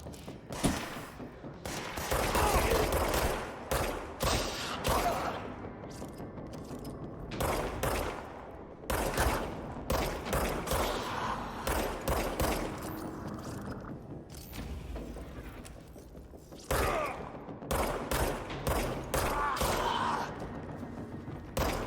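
Repeated bursts of gunfire from hip firing while walking in the video game Control, loud close shots in clusters across the whole stretch, with short gaps between volleys.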